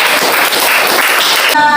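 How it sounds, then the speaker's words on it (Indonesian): Classroom of students clapping for their classmates, a brief burst of dense, even applause from a group close by, ending abruptly. "Tepuk tangan untuk teman-teman."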